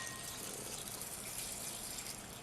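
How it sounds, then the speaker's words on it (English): Milk pours in a steady, faint rushing stream into a measuring cup, filling toward the two-cup line, a continuous soft liquid gush without breaks or voices. "I just decided to pour out some milk into our measuring cup"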